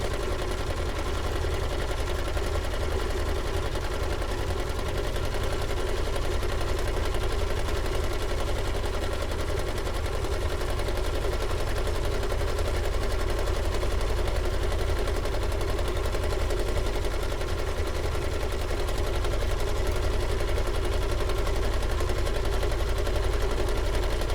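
A sewing machine stitches around fabric in one long, uninterrupted run, its rapid mechanical whir steady and close-up with no talking.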